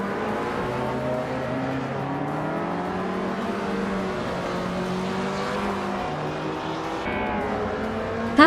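Race cars overtaking during a video game race, a steady loud engine drone with pitch rising and falling as cars rev and pass one another, continuous and close throughout.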